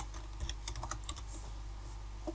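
Computer keyboard typing a comment into Google Classroom, a quick run of light key clicks in irregular bursts, close and fairly quiet, with no voice.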